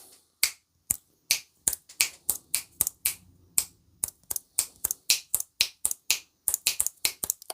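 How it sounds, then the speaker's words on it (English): Sharp hand claps, around two dozen in a steady run with brief gaps, close and loud with no talking, made to test a FIFINE M9 wireless lavalier microphone in stereo. "So now this will be a stereo sound, so I'm gonna clap on both sides."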